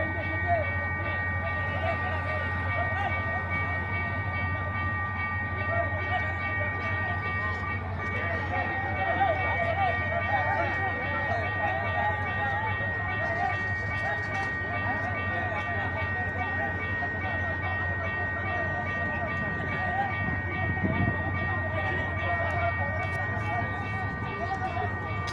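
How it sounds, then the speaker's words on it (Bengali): A delayed train pulls out of a crowded station, its steady low engine rumble and constant tonal whine holding loud and unbroken throughout, with a brief extra burst partway through. "ট্রেনটা মনে হয় স্টার্ট করছে"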